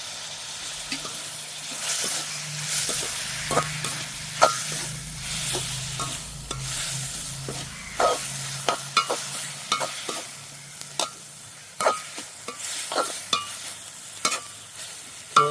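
Chopped tomatoes and onions sizzle in a pan for a Sri Lankan village-style prawn curry, with a steady frying hiss broken by repeated sharp scrapes and taps of a stirring spoon.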